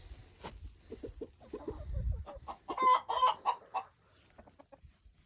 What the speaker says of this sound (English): And see, she's squawking here.